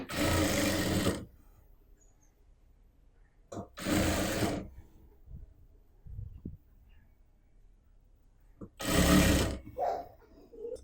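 A domestic sewing machine stitches the front neckline of a homemade top, running in three short bursts of fast, whirring stitching with near-silent pauses between them, close to the listener.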